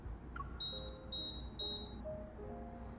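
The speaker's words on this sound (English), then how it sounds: "I lift my head to look at the elevator as it beeps in protest." Electronic elevator beeping in the Love and Deepspace video game: a steady run of short, evenly spaced high beeps at moderate level, over a soft background music bed.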